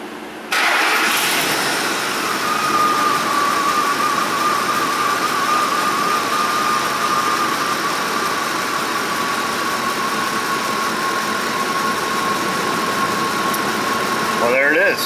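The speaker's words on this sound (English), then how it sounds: "I want to get a key-on engine cranking capture from my own library and just kind of see what the strategy is while it cranks and initially starts" A Ford engine with a charging-system fault cranks briefly, catches and settles into a steady, loud idle with a constant hum and a faint whine, running alone for most of the stretch.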